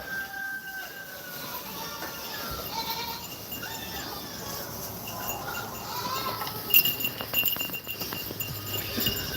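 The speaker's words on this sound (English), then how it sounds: "That was the sound of a squished goat." A goat gives a strained, wavering bleat within a noisy, cluttered background, with faint voices mixed in.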